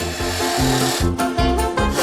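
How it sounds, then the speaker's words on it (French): A chainsaw runs in a video game, its buzzing motor rising and falling in short repeated revving bursts, loud and close, with no voices over it. "une tronçonneuse"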